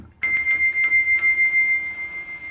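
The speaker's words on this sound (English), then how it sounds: "the shop bell." A shop bell in a garage rings once with a bright, sharp strike, then keeps jingling with a few quick repeats and rings on clearly as it fades, loud, close and alone.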